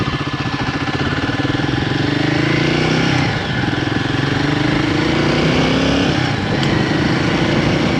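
Loud, close Royal Enfield Guerrilla 450 motorcycle engine running continuously while riding, pitch rising through the gears with brief dips at shifts.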